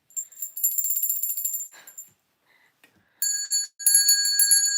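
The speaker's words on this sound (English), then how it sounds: "I probably have like 20 bells in here, all over the place." Several small bells ring in bright, shimmering bursts, close and fairly loud, with a short quiet gap in the middle before a second round of jingling.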